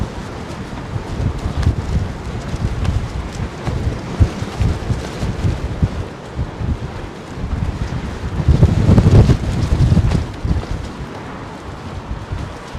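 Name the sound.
gusty wind at Heathrow Airport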